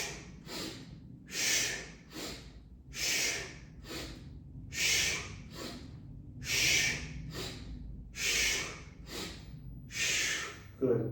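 Slow, audible breaths during a pranayama breathing exercise, roughly eight rhythmic breathy exhalations and inhalations in steady cycles, close and clear with quiet pauses between.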